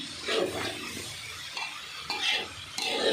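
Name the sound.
stirring egg curry in pan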